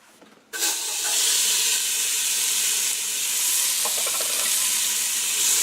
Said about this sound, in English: Saute them.